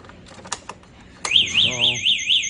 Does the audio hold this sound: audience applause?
no